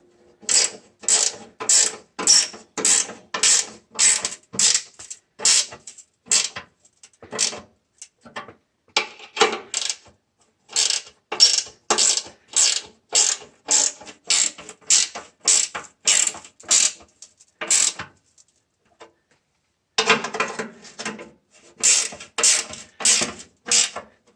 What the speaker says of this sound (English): So I'm going to go through and tighten the remaining bolts.